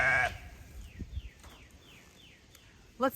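A Katahdin sheep bleats nearby at the start and again briefly at the end, with quiet outdoor rustling and a few faint tones in between.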